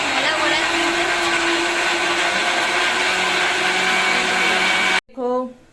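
A mixer grinder whirs loudly as it grinds chutney, its motor holding a steady, high drone for several seconds before it cuts off abruptly and a brief voice follows.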